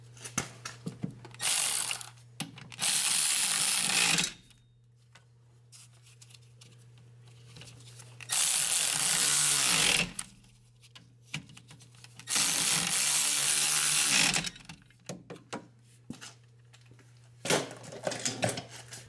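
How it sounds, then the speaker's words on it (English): Ratchet tightening the wheel hub assembly bolts on a Hyundai Sonata during a rear wheel bearing replacement, heard as four long bursts of rapid clicking separated by pauses, with a steady low hum underneath. "So now we're gonna tighten these bolts."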